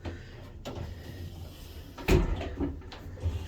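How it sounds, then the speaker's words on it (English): Two glass shower doors closing in a cruise ship oceanview cabin bathroom, a soft sliding rub followed by a firm thud and a second lighter knock, close by in a small room, with no talking. "And then kind of closes with 2 doors like that for the shower."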